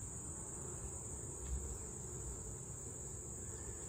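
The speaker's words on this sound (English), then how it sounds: "I think that's some piping I'm hearing." Honeybee queen piping inside a hive during an inspection: a faint, steady high-pitched tone held over a soft background hum, alone and without talk.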